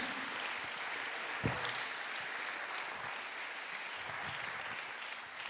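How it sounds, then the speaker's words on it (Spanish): A church congregation applauds during a Spanish-language sermon at a communion service, a steady wash of many hands clapping that fills the whole stretch, with one brief thump early on. "Denle un aplauso fuerte al Señor, amén."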